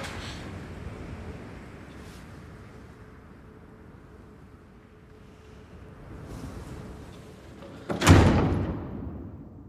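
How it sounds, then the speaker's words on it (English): A door opens and bangs as a woman leaves, a sudden loud thud with a rattling tail late in the clip, after several seconds of quiet room rumble and faint movement. "As she opens the door to leave,"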